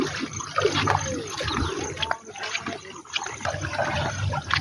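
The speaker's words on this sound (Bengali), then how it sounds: "দেখছো প্রচুর পরিমাণে জল, জল এক হাঁটু করি, এক হাঁটু করে জল।" Knee-deep flood water flows steadily through a flooded village, a continuous broadband rush and trickle with uneven surges, close and moderately loud, no talking.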